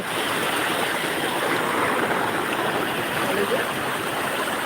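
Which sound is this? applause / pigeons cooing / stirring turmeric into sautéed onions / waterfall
waterfall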